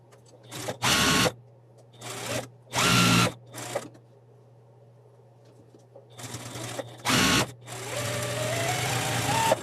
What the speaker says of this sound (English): we're going to sew a 1/4 inch seam along this edge here